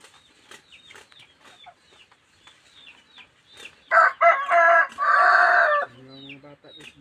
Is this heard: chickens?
yes